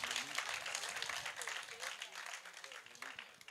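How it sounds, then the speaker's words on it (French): Faint, steady applause and clapping from an audience rises for a choir soloist at a gospel singing competition, with some talking mixed underneath. "Et je vous demande de l'applaudir."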